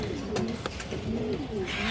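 A lively female bagha pigeon coos in soft, low rolling calls against a steady background hiss, with no one speaking.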